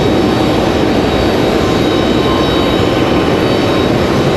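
Airbus A321 jet taking off at Raleigh-Durham airport, a loud, steady broadband engine roar that holds constant and close throughout, with no voices.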